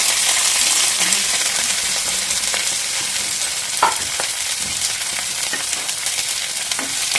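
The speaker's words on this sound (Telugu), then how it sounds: "బాగా వేయించుకుందాం." Onions and carrots frying for a fenugreek-leaf and moong dal curry, a loud bright hiss of hot oil running throughout, with occasional soft stirring clicks and scrapes.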